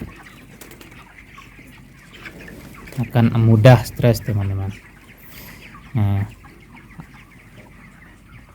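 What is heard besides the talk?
broiler chickens clucking in an open stilt coop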